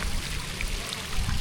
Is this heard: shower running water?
yes